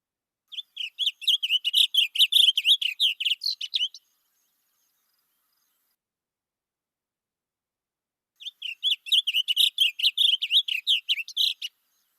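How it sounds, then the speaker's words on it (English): A wild bird on a prairie sings two bursts of rapid, high chirping notes, each lasting about three seconds, separated by a long stretch of silence; clear and close with no other sounds. "always investigate those unknown and unfamiliar bird calls and songs."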